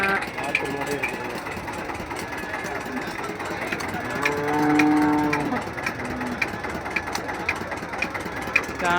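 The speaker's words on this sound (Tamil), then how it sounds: "நாட்டு மாடு இருக்குதுங்க." Native cattle at the Kundadam weekly cattle market in Tiruppur: a single drawn-out moo rises midway, under people talking and the low rumble of an idling engine.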